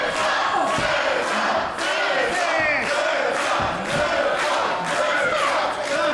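A wrestling crowd at a German GWF show cheers and chants loudly and steadily, with a dense roar broken by a few thumps from the ring.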